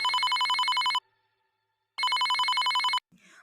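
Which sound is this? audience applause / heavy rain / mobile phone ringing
mobile phone ringing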